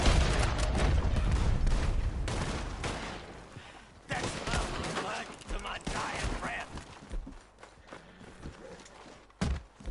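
Gunfire in Red Dead Online, repeated sharp shots and volleys scattered through a busy mix of footsteps and movement, fairly close, with a heavy opening burst and further isolated shots trailing off toward the end.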